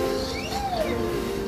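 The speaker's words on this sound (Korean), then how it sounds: "후후 오는" A short owl-hoot sound effect in a children's bedtime story: a brief, soft, gliding call over a quiet musical background.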